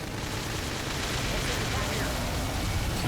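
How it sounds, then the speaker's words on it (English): Gunfire in the video game Xenoblade Chronicles X, a dense, continuous roar of shots and blasts layered with game effects, loud and unbroken throughout. "Now if we can just topple them with gunfire."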